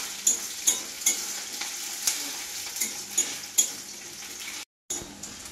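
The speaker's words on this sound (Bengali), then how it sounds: "গরম মশলাটা ভাজা হয়ে গেছে, এবারে দেবো পেঁয়াজ" Onions fry in a pan with a soft sizzle while a spatula scrapes and taps rhythmically, roughly a dozen sharp strokes over a few seconds, then a brief cut to silence.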